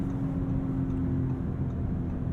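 Steady six-cylinder engine drone from a 2023 Audi S6 while driving, a constant low hum heard from inside the cabin with no voices.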